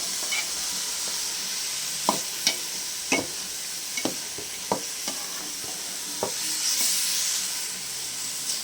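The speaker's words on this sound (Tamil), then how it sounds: "இப்போ புடலங்காய் போட்டுக்கலாங்க. நல்லா கிளறி விடலாம்." Snake gourd fries in a pan under a steady hiss, while a spoon stirs and scrapes in crisp knocks about once a second, close by and without speech.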